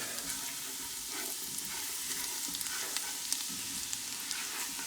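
Mushroom soup ingredients are stirred in sizzling garlic butter in a pot, giving a steady close frying hiss with faint scraping taps from the stirring and no talk.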